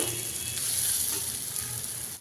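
A curry of pointed gourd and jackfruit seeds is sautéed in a pan, giving a short burst of steady hissing sizzle that cuts off abruptly. No one speaks.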